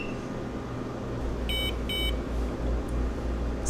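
GfG G450 multigas detector sounding its alarm during a bump test with test gas: two short bursts of shrill electronic beeps, close by, over a steady low background hum.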